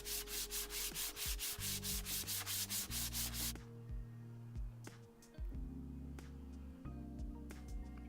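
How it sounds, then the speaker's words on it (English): Rhythmic back-and-forth rasp of sanding old wooden broom handles, strokes evenly paced for a few seconds, then softer scraping under a humming motor. "give them a quick sanding down"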